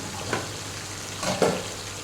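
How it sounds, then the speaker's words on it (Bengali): Potatoes fry in a pan with Kashmiri chili powder, a soft background sizzle broken by two brief scraping stirs. No one speaks. "আলুগুলো সুন্দর করে একটু সময় নিয়ে ভেজে নিতে হবে।"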